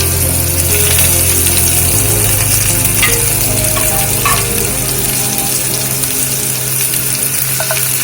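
Miniature crispy rice pancakes (bánh khọt) sizzle steadily in a hot pan, a loud continuous frying crackle with a low hum beneath it and occasional clinks, with no voices.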